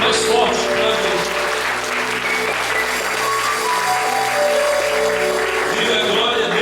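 A church congregation applauds loudly for several seconds, with sustained dense clapping under music and a preacher's voice.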